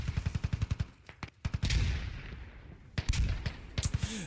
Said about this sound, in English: Grenades going out now.